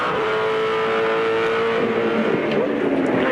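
A 2007 V8 Supercar racing engine roars steadily from onboard Rick Kelly's car during a championship round, loud and continuous with rising pitch as it accelerates.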